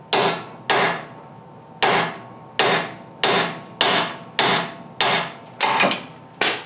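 Nine loud, evenly spaced metallic hammer blows strike a tool against a car's lower control arm ball joint, each sharp hit ringing briefly before the next, with no talking.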